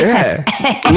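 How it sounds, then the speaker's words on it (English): A person clears their throat with rough, gravelly bursts, a few harsh rasps in quick succession, close and loud. "me clear my throat."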